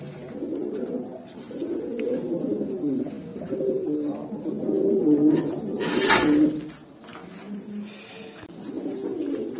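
Jabra pigeons coo steadily in a loft, overlapping low rolling calls close by, with a brief sharp rustle or flap midway.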